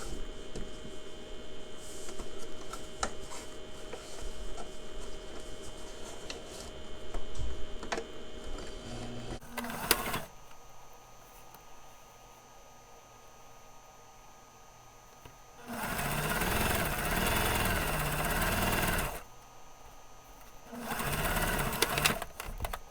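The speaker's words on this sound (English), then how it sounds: "Now we're just going to take the machine and just go over this and close it back up" A sewing machine stitches a man's suit jacket sleeve closed in two loud, steady bursts of rapid whirring, the first running for several seconds and the second returning after a quieter pause, with only faint background noise between them.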